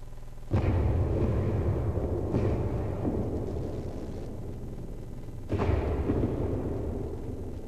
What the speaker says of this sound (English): Objective A, null cannon targeting MCC